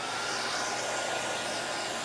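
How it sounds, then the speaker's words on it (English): A hair dryer blows steadily with a continuous whooshing roar, close and constant throughout. "Let's get our hair dryer."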